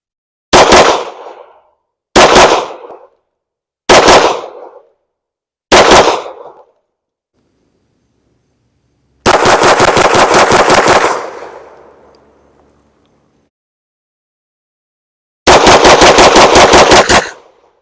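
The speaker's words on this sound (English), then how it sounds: "then last 10 will be rapid fire" Rapid pistol fire from a Canik Mete SFT and a Springfield XDM Elite, loud close bursts: four short quick volleys, then a longer string of rapid shots, a pause, and a final rapid burst.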